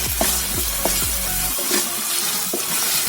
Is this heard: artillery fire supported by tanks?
no